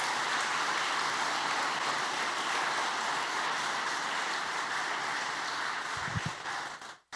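A church congregation claps for the Lord, a dense, even wash of applause that carries steadily throughout and cuts off abruptly at the end, with no talking.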